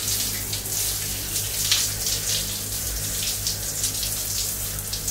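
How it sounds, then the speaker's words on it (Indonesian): Water runs steadily from a tap while body scrub is rinsed off the skin, a close, continuous splashing gush with no voice. "mari kita bilas"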